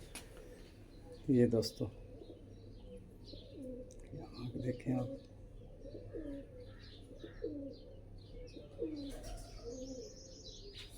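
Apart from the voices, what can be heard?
pigeons cooing on a rooftop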